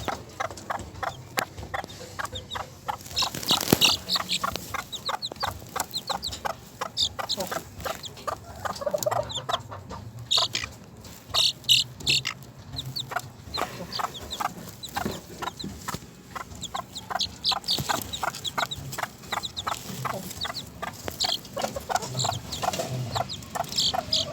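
Sebright chickens cluck and two-week-old chicks peep continuously nearby, a busy chorus of short calls with occasional louder squawks.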